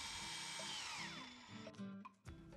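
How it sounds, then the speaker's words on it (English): A power drill whines at speed driving hinges into a window screen frame, then winds down, followed by a few short bursts and clicks nearby. "Drill the hinges into place."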